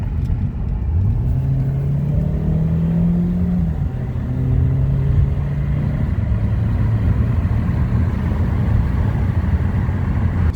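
A Ford Focus with a newly replaced transmission pulls onto a highway, its engine note climbing through rising gear pulls as it accelerates. Loud, steady road rumble and engine drone run throughout with no talk.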